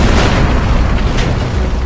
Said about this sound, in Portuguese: Eu vi o míssil passar pelo caça e explodir.